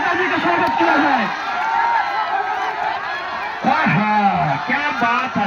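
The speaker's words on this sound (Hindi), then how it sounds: "एक बार जोरदार ताली से नेताजी का स्वागत किया जाए।" A crowd at an Indian village wrestling dangal cheers and applauds a welcomed guest, a dense, loud roar of voices and clapping that swells in two bursts, with an announcer's voice talking over it.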